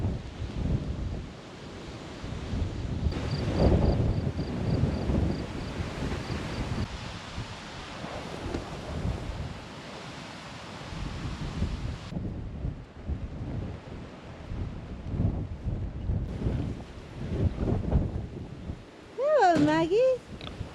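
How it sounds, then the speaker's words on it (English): Strong wind buffets an off-grid homestead outdoors, roaring and gusting in uneven surges across the microphone for the whole stretch, with a voice talking underneath at times and a brief squeaky sound near the end. "Man, it's so windy."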